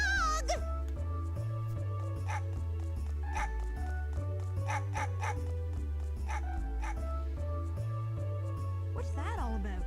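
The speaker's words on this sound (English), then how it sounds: "It's a dog!" A dog in the Mega Man Legends video game barks repeatedly in short bursts over a looping, steady game music track.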